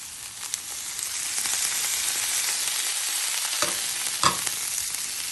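Onions, green chillies, ginger and curry leaves with salt and pepper are stirred as they fry in a pan for a Kerala spinach-egg thoran, giving a steady close sizzle with a few scraping stir strokes, no talking.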